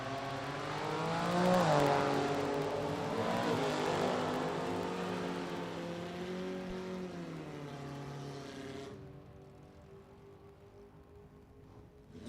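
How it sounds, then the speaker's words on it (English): A six-cylinder Pontiac Firebird hot rod with a stock automatic launches down a drag strip, engine roaring loud then shifting and fading into the distance over several seconds before cutting off. "Hagen's 6-cylinder Firebird. It's in stock automatic"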